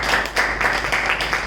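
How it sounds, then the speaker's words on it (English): Audience at a Toastmasters club meeting applauding the speakers, a brief, steady patter of clapping from a small group, fairly close and continuous. "table topic speakers that deserve a big round of applause"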